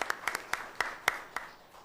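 A small, sparse group claps in a school board meeting room, about eight distinct close hand claps at an uneven pace, quiet and brief.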